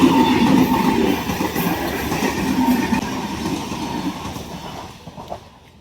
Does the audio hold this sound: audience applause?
no